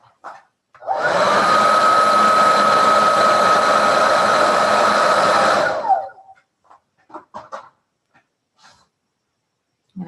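Hair dryer blowing over a wet watercolor painting: a loud, steady whir switched on for about five seconds, then cut off and followed by a few faint taps and knocks in quiet.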